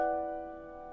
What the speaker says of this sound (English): I'm adding these little atmospheric piano chords that sound like this.